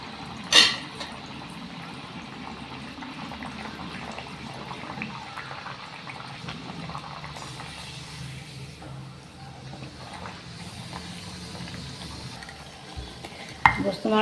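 Thekua dough fries in medium-hot oil over a low gas flame, a steady soft bubbling sizzle that runs throughout at moderate level, with a couple of brief clinks at the start and end.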